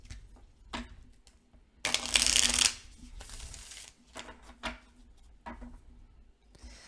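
A deck of oracle cards is shuffled by hand, quiet papery riffles and taps with one louder burst of rapid flicking in the middle, close and soft in an otherwise quiet room.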